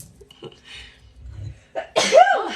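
During a livestream, a person lets out a single sharp sneeze near the end, preceded by a faint breath and quiet murmuring.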